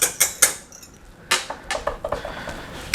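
A spoon stirs bologna pieces in BBQ sauce in a pot, giving a string of quick metallic clinks and scrapes at uneven intervals, close and fairly crisp with no talk.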